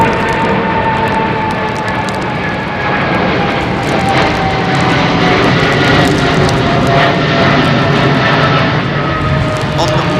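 Airliner jet engines roar loud and steady as the plane climbs out of London Heathrow Airport under a low cloud base, a continuous heavy rumble with shifting whine that fills the whole stretch, a voice faintly underneath.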